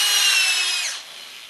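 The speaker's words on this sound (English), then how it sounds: "Keep in mind not to drill these things in too far." A power drill drives a screw into wooden raised garden bed boards in one short, loud whining burst that winds down and stops within a second.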